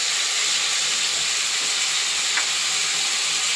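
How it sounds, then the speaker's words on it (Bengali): Cumin seeds and turmeric frying in oil, a loud, close, continuous hiss and sizzle that stays even from start to end with no voices over it. "তো এটা ভাজা হতে থাকুক।"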